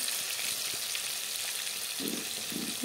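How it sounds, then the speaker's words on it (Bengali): Fish pieces fry in hot oil in a pan, giving a steady, close, even sizzle throughout with no voices. "এখানে মাছ ভাজা বসিয়ে দিলাম"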